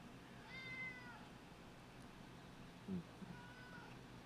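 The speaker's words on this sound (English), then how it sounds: "And he's going, meow." A house cat meows a couple of times indoors, faint and fairly close, with a short rustle or thump between calls against a quiet room background.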